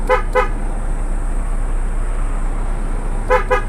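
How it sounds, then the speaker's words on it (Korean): A short double honk from the electric horn of a 2019 MAN 460-horsepower dump truck sounds at the start and again at the end, over a steady low engine hum. "귀엽게 빵빵거리고"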